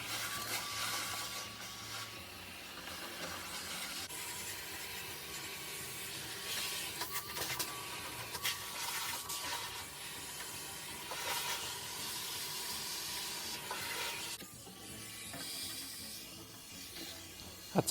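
Henry vacuum cleaner sucking dust, soot and ash from the burner of a diesel locomotive preheater unit: a continuous airy hiss and whoosh, steady with small shifts as the nozzle moves, no talk.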